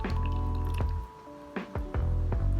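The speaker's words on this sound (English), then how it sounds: "Dip it into the warm water." A cloth dipped into warm water makes soft drips and squishy liquid splashes, a few brief wet sounds under a steady low hum, close and quiet.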